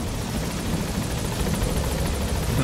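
A helicopter arrives in the video game Metal Gear Solid V, its rotor thrum a loud, steady wash of blades and engine that fills the whole stretch without a break.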